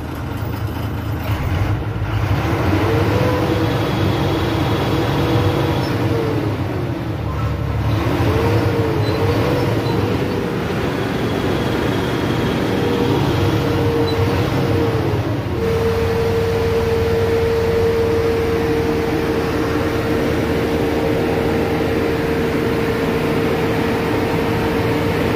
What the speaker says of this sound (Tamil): வண்டியோட இன்ஜின் கண்டிஷன் பாருங்கள்,